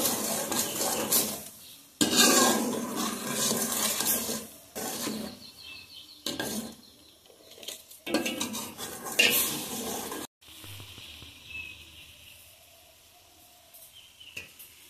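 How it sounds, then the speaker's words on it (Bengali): Milk sweetened with sugar is stirred steadily in a metal pan as it thickens into malai, with a ladle scraping and clinking against the pan in bursts, separated by brief pauses. "দুধটা আমি খুব ঘন করে মালাই করে নেব।"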